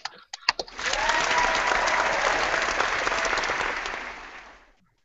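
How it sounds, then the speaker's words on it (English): A canned applause sound effect plays during a wrestling talk show: a few sharp claps lead in, then a loud, dense burst of crowd clapping swells and holds before fading out smoothly over about four seconds. "Yo, hit the applause."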